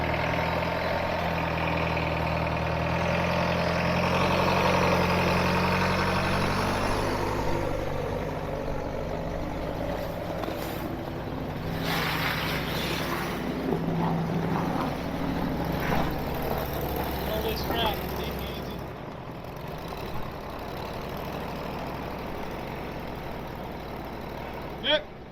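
A snowcat is dragged by a towing vehicle on a strap through soft snow, with a heavy engine droning and labouring steadily throughout while people talk over it.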